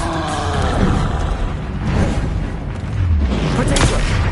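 Explosive spell blasts in Hogwarts Legacy combat, a dense run of booming, rumbling bursts that fill the whole stretch at close range, with low thuds and crackling debris layered over a continuous roar.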